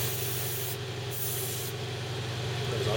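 Airbrush or spray can hissing steadily while spray painting a Bandai Halo Master Chief model kit, a continuous close broadband spray over a low motor hum, with a short louder burst midway.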